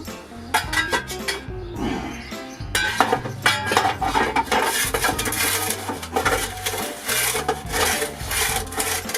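Waste ash is scraped out of a Monolith kamado grill with a metal tool, making repeated rough rasping and scraping strokes close up, with clattering in between and no talking.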